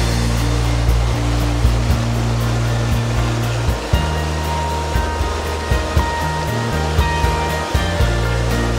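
Rushing water of the Teno river in a Chilean valley, a loud continuous roar with steady low rumbling and occasional soft knocks, close and alone.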